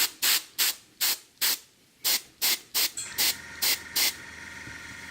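Airbrush spraying paint to build shadows on a miniature's leg: about ten short, sharp hissing bursts in an uneven rhythm, close and fairly loud, with quiet gaps between them and no talking.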